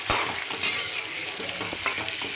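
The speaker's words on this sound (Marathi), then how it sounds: "चांगला कलर येईपर्यंत आपल्याला ह्याला फ्राय करून घ्यायचं" Eggs frying in a pan for a dhaba-style egg curry, a steady close sizzle with occasional spatula scrapes and stirring clinks.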